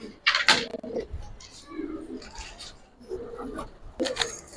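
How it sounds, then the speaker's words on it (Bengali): Soft, throaty coos of Giribaz pigeons repeat in short bursts, near and moderately loud, with scratchy rustling between the calls. "চারটা কবুতর অনেক সুন্দর দর্শক"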